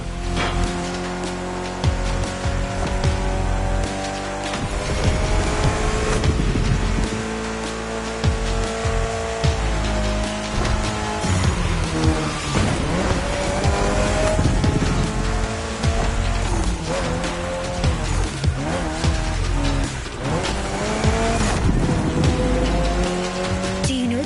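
A Mitsubishi Evo X lapping a track in The Crew Motorfest, engine revving loud and continuous through rising and falling gear changes, with tires squealing in the corners throughout.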